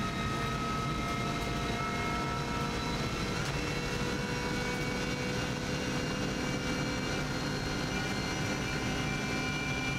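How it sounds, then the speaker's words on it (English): A steady aircraft engine drone hums throughout at a constant level, with a sustained tonal whine over broad rumbling noise, like a helicopter hovering nearby. "Helicopter always comes into sight here, you can see that above."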